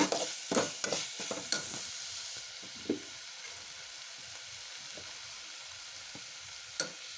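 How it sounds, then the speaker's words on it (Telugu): Ginger garlic paste frying in a pan, with a steady close sizzle and a burst of spoon scrapes and stirring at the start, then a few isolated scrapes as it cooks on. "కొంచెం అల్లం వెల్లుల్లి పేస్ట్ ఫ్రై అయిన తర్వాత"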